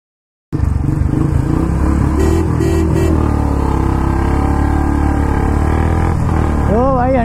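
Royal Enfield Hunter 350 and Classic 350 motorcycles drag racing, their engines bursting into a loud, sustained roar that stays steady and near throughout, with rising rev sweeps toward the end.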